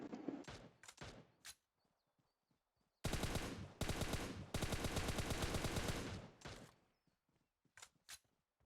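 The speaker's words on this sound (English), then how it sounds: "Who the hell is shooting at us?" Gunfire in a battle royale video game: a few scattered shots, then long sustained bursts of rapid automatic fire, loud and close, trailing off into isolated single shots.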